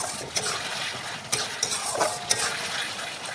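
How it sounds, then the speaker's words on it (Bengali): Potatoes and spices cooking in a pan, with a steady soft sizzle and a few scraping stirs of a spoon against the metal, close and fairly quiet, no talking. "দেখুন আবারও একটু রান্না করে নিচ্ছি।"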